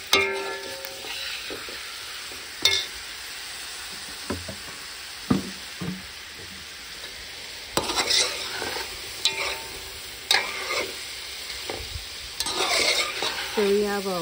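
Pig tail soup with pumpkin, yam and cassava cooks in a pot over a fire, a steady simmering hiss broken by scattered clinks and scrapes of stirring.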